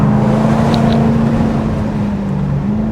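A 2024 Jaguar F-Type R75 AWD convertible with ZF 8-speed automatic drives steadily, a continuous low engine drone holding an even tone close up, with two faint brief snaps high above it, and no talking.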